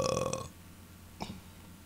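A short, low burp from a man, close and fairly loud, following a moment of background noise, alone with no talk over it.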